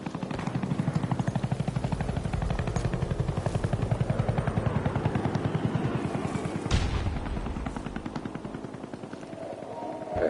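A helicopter in an online shooter video game roars continuously and loudly with a steady rotor throb, mixed with bursts of automatic gunfire and a sharp blast near the middle.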